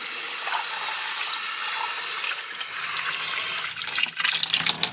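Water runs hard from a tap fed by a Bosch Tronic 3000T 2.5-gallon electric water heater in a shop, a loud close hiss that shifts and sputters midway, then continues with gurgling splashes.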